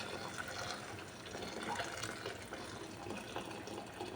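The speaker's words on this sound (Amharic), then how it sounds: "እንግዲህ አሁን ውሃ ጨምራለሁ።" Water poured into a cooking pot of chicken with vegetables, a continuous soft splashing fill, faint and steady with no talk.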